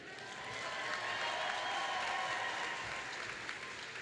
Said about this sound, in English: So, round of applause to Julia.